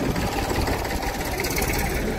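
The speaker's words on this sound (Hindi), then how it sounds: "दोस्तों चल दिया है ट्रैक्टर" A small Massey 35 tractor engine runs at a steady idle, a close, loud and continuous low diesel rumble heard alone.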